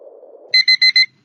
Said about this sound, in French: je me réveillais avec un réveil à l'ancienne